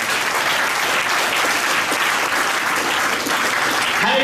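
Applause from the audience at a large Christian healing convention, loud and continuous, with dense clapping that fills the whole moment and is not broken by speech.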